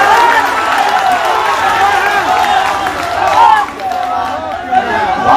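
A large crowd massed at a rally on the Club Maidan ground in Muzaffarpur, a dense, continuous roar of chatter with scattered cheering and clapping, with a speaker's voice carrying over it throughout.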